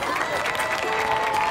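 Applause from an audience in a studio talk setting, steady and dense throughout with a faint tonal hum and some crowd noise mixed in.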